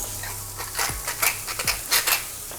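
A spoon stirs a vegan breakfast scramble seasoned with nutritional yeast, salt and pepper in a sizzling pan, with soft scraping strokes and light clinks over a steady low fry, close by.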